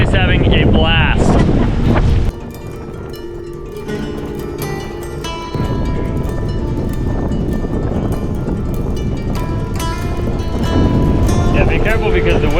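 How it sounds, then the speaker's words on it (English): Strong wind gusts buffet the microphone on a dock, a loud, continuous rumbling roar that carries through the whole stretch, with people talking over it. "be careful because the wind, you know, might blow you off the dock if you're not careful"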